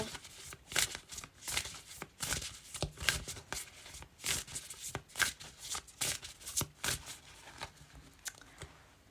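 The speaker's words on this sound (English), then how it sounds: "just give these cards a good old shuffle" A deck of tarot cards is shuffled repeatedly, with crisp riffling bursts and soft taps in an irregular rhythm, close and fairly quiet.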